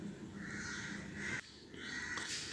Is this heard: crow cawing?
yes